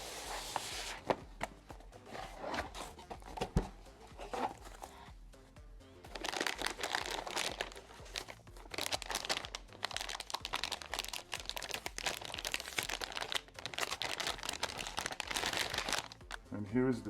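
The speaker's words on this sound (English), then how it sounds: "Now we're gonna unbox the GTX1080." Close, crisp crinkling and rustling of plastic and cardboard packaging as a GTX1080 graphics card is unboxed, running almost continuously with brief pauses and light handling clicks.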